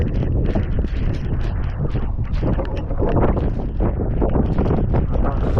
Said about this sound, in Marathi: वारा खूप आहे मित्रांनो